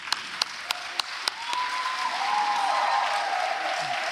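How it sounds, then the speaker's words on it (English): Audience at a school debate competition in Johannesburg claps in a burst of sharp isolated claps that swells into sustained, fairly loud applause, with a faint whistle-like tone running through it. "Round of applause."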